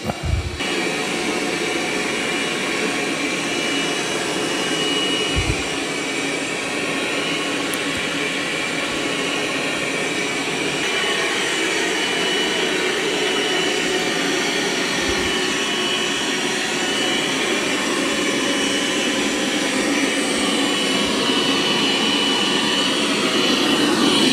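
Dream X40 Ultra robot vacuum running steadily on carpet, a loud continuous whooshing motor drone that holds level throughout, with a few soft low bumps underneath.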